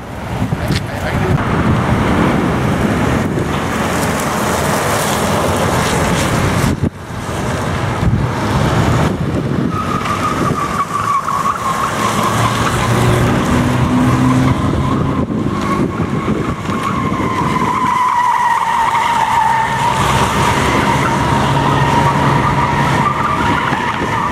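A car corners hard at around 80 mph during G-force testing on a camber setup, with steady loud road and wind roar, rising tire squeal held through long turns, and a brief dip in noise midway.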